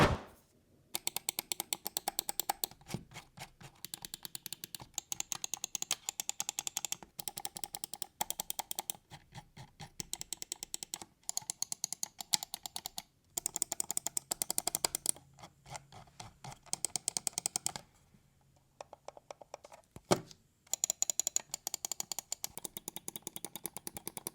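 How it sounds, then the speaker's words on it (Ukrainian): GamePro Asgard gaming mice, the Surt, Loki, Thor and Odin models, having their main and side buttons pressed in turn. Dense bursts of rapid, crisp plastic clicks come up close, separated by short pauses. "давайте послухаємо, як е, звучить кожна з мишок, наскільки голосно клікають основні кнопки, бокові кнопки"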